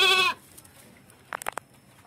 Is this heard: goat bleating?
yes